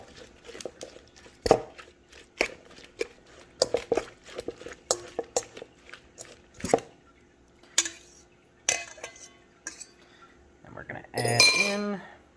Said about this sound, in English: We're going to mix all of this together.